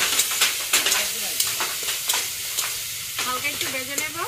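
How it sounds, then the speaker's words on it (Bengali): Dried fish frying with spice paste in a pan, a continuous close sizzle broken by repeated scraping stirs of a spatula, with faint voices briefly near the end. "হালকা একটু ভেজে নেব"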